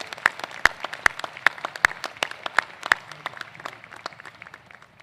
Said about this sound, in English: Let's give these outstanding alumni a warm round of applause